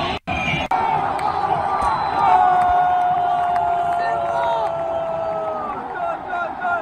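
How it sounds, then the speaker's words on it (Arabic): A stadium full of Moroccan fans roars and cheers after a goal in the Morocco versus Congo match, a loud, sustained crowd din with whistles and shouts that swells and holds. "أجواء ما بعد الهدف."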